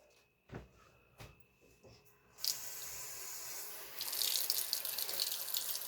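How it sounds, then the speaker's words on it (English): A few light clunks of handling, then a kitchen tap turns on and runs into a container being filled, a steady close hiss and splash that grows slightly louder as it continues. "I'm going to just fill this up with water now."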